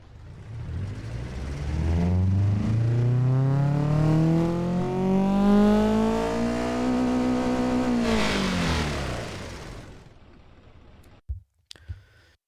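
A naturally aspirated 2.5 liter flat-four engine in the Automation car game revs steadily up through a long rising pull for several seconds, then drops away, followed by a couple of brief clicks.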